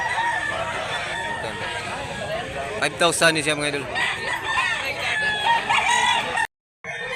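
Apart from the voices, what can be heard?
rooster crowing at Cebu chicken market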